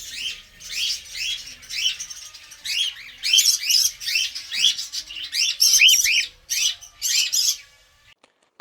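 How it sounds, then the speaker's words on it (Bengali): Cockatiels and other pet birds call together in repeated bright chirping bursts, close and fairly loud, continuing in clustered phrases with brief pauses before falling quiet near the end. "পাখিগুলো অনেক সুন্দর"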